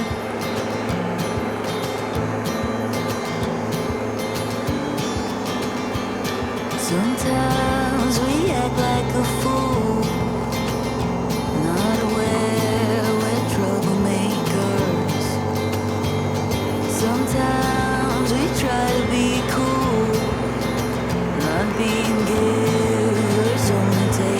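A new lawn mower cutting grass at a country dacha, its motor droning steadily and loudly throughout with shifts in pitch and load as it moves across the lawn, with no talking.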